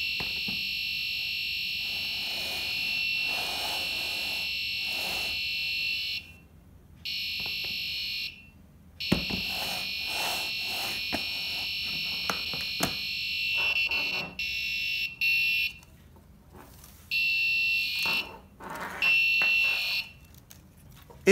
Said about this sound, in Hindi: जैसे ही अल्ट्रासोनिक के सामने कोई ऑब्जेक्ट आता है तो ये अलार्म बजने लगता है